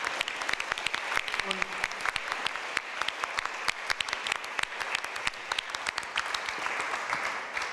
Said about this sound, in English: So a big round of applause to all of you, to the whole team